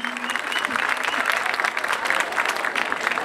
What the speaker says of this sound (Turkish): çok teşekkür ederim o güzel alkışlarınız için